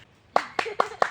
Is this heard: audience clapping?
yes